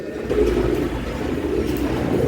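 Pigeons, including red and yellow Gorra, coo softly and continuously over a low background murmur, the throaty calls blending into a steady hum.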